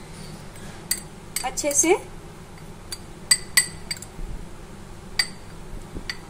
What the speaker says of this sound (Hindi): अब हम इन सारे मसालों को मिक्स करेंगे